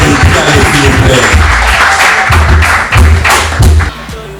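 Loud audience applause and crowd noise for a pianist at a nightlife stage show, dense clapping with thumps throughout, rising in bursts near the end.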